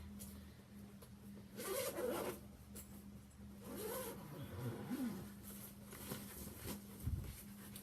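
Wheelchair cushion cover being unzipped and pulled off, several short quiet zipper runs and fabric rustles in bursts, close by and faint with no talking.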